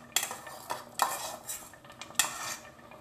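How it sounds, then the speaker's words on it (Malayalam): A spoon scrapes and clinks against a pot while ground coconut and cumin paste is stirred into pumpkin erissery, giving several sharp metallic knocks between soft stirring sounds, close and with no talking. "നന്നായിട്ടൊന്ന് ഇളക്കി"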